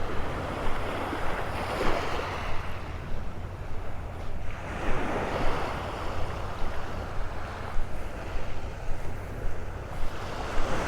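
Gulf waves roll in and wash up the shore at Delnor-Wiggins Pass State Park, Florida, in repeated surges, with wind buffeting the microphone throughout; no voices.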